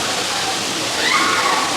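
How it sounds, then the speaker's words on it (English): Kudlu Teertha waterfall pouring over rocks, a steady, loud broadband rush of falling water that continues unbroken throughout. "The waterfalls, the rocks."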